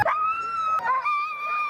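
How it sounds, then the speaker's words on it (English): Sled dogs at an Anchorage sled dog race let out a drawn-out, wavering howl, loud and near, with a brief break midway before the wail resumes. "go see some of the sled dog races. And if you haven't noticed already, they're pretty loud."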